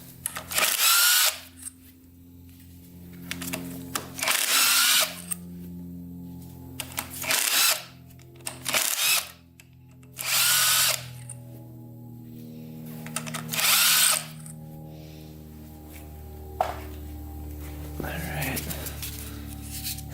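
Cordless impact wrench loosening bolts on a locked-up barn-find dirt bike, heard as about six loud, separate bursts of whirring and hammering, each a second or so long, with pauses of shop quiet between them.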